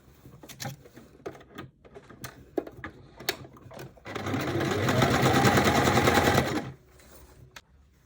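A sewing machine runs a side seam on linen shorts in one steady, rapid burst of stitching lasting a few seconds, preceded by scattered clicks and handling noises and followed by quiet.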